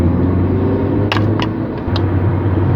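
A new car's engine accelerating again after easing off, a steady loud low rumble of the running motor heard from inside the cabin, with a few brief clicks or taps over it.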